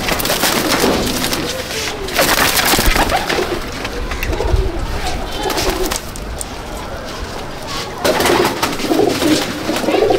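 Domestic flying pigeons coo repeatedly at close range in a loft, their soft rolling calls running steadily alongside rustling and scattered background noise.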